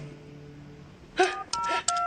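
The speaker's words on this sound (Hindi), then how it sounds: "मैं डॉक्टर को फोन" Several short telephone keypad dialing tones beep in quick succession, near and clear, after a quiet stretch of faint background hum.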